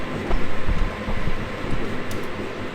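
A train in Trainz Railroad Simulator 2019 rumbles steadily along the track, a low continuous rolling noise with rhythmic thumps of wheels, moderately loud and without talking.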